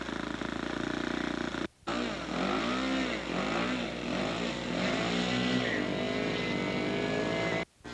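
A scale model aircraft engine runs steadily at a sod farm airfield, a buzzing drone with shifting pitch as RPM rises and falls, with brief dropouts and no speech.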